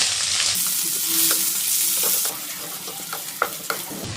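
Onions fry in oil with bay leaves, chilli and five-spice seeds, making a dense sizzle close by that softens after a couple of seconds; a few scraping stirs pop through near the end.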